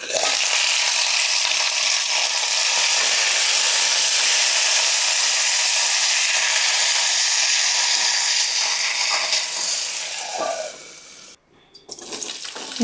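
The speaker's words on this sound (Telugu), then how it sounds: "2 స్పూన్ల ఆయిల్ వేసుకుని చక్కగా పచ్చిమిర్చి వేయించేసుకోవాలి." Green chillies frying in two spoons of oil in a pan for amla chutney: a steady, loud sizzling hiss that runs for many seconds, dips briefly near the end, then resumes.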